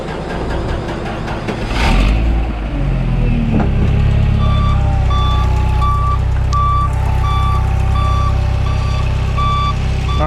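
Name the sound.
forklift reversing at idle with reversing beeps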